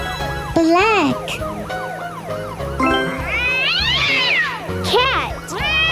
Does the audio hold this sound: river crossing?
no